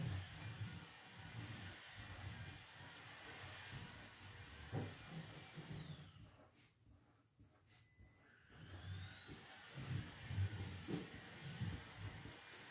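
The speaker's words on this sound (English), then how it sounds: "My husband's just started vacuuming, so hopefully you guys can't hear that." A vacuum cleaner runs steadily in another room of a house, a distant, muffled whine and rumble that fades briefly midway and then returns, with no talking over it.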